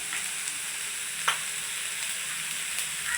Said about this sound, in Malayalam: നമ്മളിതിപ്പോൾ ഉള്ളി, പെരുംജീരകം, മഞ്ഞൾ എല്ലാം കൂടെ ഇട്ട് വഴറ്റിയാണ്